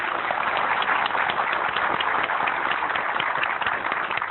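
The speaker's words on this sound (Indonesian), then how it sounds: "Boleh tepuk tangan sekali lagi untuk" Steady, dense applause from a seminar audience at a motivational talk about the power of dreams, continuous clapping filling the whole stretch without a break, with no voices over it.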